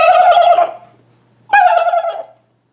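A man vocally imitates a wild turkey gobble, two loud, close bursts of rapid throaty warbling separated by a short pause, with no other talk.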